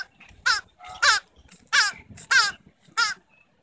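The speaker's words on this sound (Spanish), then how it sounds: "Era el pájaro del pico dorado." Harsh, crow-like bird calls from a children's foam-rubber puppet show: five loud, strained caws in an uneven rhythm, close and clear with no talk over them.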